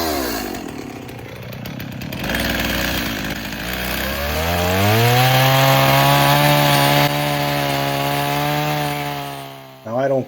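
A loud chainsaw engine revs up and holds a steady, rising whine as it cuts through a log, running for about ten seconds before briefly dropping off.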